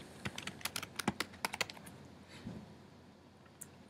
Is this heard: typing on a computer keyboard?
yes